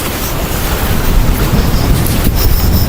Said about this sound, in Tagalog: Karon panindot sa hangin diri.